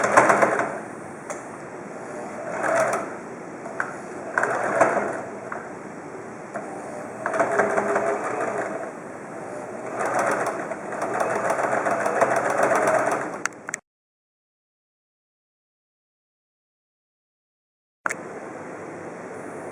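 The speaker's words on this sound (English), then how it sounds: "it's time for us to sew it on to our twin flat sheet" A sewing machine stitches a ruffle onto a twin flat sheet in bursts of rapid mechanical whirring and clatter, stopping and starting, then falls silent before briefly resuming.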